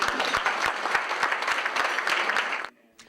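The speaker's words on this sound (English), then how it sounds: "I think we deserve a round of applause." Audience at a Torrance civic gathering breaks into applause after a mention of California drought funding, a loud steady clatter of many hands with sharp claps up close, cutting off abruptly near the end.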